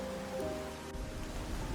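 Rain falls steadily as a soft, even wash of noise with a faint tonal hum underneath, continuous and without voices.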